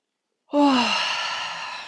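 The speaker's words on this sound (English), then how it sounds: "So I'm going to yawn." A person yawns during a vagus-nerve breathwork session: silence, then a sudden breathy voiced exhale that starts with a falling tone and trails off into a long airy sigh, close to the microphone.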